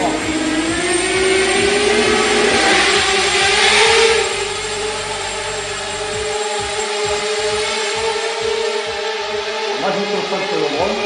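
An Eachine 250 Racer drone takes off indoors from a cardboard box. Its high motor whine holds steady and close, swelling as it spins up and then settling into a wavering buzz, with people talking over it.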